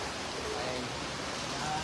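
Continuous rain pours down in an even, dense hiss, close by and unbroken.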